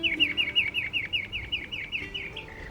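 A bird calls outdoors in a desert setting, giving a quick run of about a dozen evenly spaced sharp chirps, fairly close and clear over a faint background.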